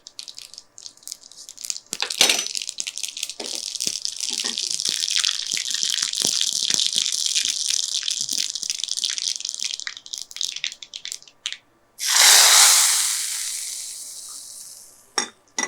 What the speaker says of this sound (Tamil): கடுகு போட்டுடலாம்.